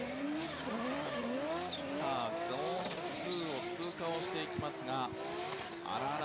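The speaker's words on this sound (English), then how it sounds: "A lot of working of the accelerator, you can hear it." A Toyota GR86 drift car's engine revs rise and fall repeatedly as the throttle is worked at Tsukuba during a D1GP competition, with some tire squeal and a voice talking over it.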